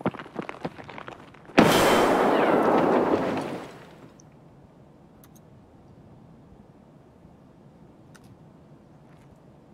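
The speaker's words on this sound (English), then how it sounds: "They're gonna throw a nade in." A grenade explodes in a first-person shooter game, a single sudden loud blast that rumbles and fades over about two seconds before quiet returns.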